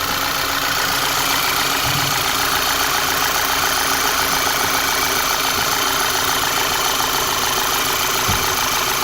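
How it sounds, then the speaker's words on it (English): A 2011 VW Tiguan's engine idles steadily just after starting, a loud, even running hum with no misfire, heard alone without talk for the whole stretch. "It starts right up, no misfire."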